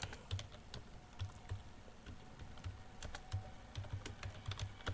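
Fingers type a prompt on a computer keyboard in rapid, uneven bursts of close, crisp key clicks with short pauses between runs; no voices.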